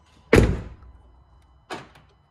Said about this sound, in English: I'll shut this door, do a demo.